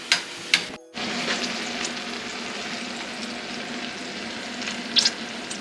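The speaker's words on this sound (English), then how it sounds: "about halfway through the pork cooking, we're gonna add shallots" Pork frying in a pan, a constant close sizzle with a few sharp pops and stirring clatters, briefly cut out near the start.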